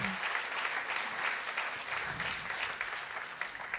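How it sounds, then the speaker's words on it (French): Audience applause at a live concert, dense continuous clapping from a crowd, moderately distant and even throughout, with a brief low voice at the very start. "Je pense que vous pouvez l'applaudir méga, méga, méga fort."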